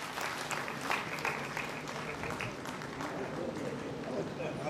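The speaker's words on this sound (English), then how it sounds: "Give her a big round of applause" Steady applause from an audience for a prize winner at a valedictory session, a continuous wash of many hands clapping with no single claps standing out, at moderate distance.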